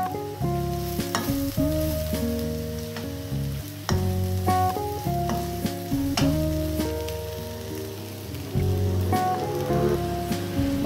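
Carrots go into a sizzling beef noodle stir-fry, a steady frying hiss running throughout beneath prominent background music, with no talking.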